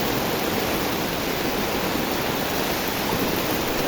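Strong floodwater rushes past in a loud, unbroken roar of churning water, dense and close with no pauses and no talking.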